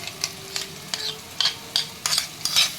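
Mutton masala with whisked yogurt being stir-fried in oil, a soft sizzle under repeated scraping strokes of a spoon against the pan, close and steady with no talk.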